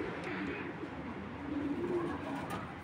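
Racing pigeons of Koopman bloodline coo softly and steadily in a loft, a low murmuring that persists through the whole stretch with faint chirps above, no talk.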